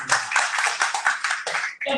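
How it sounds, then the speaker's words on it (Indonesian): A church congregation claps hands in a brisk, irregular patter during a sermon, the claps fairly close and lively, ending in a short break followed by a voice. "Berikan tepuk tangan."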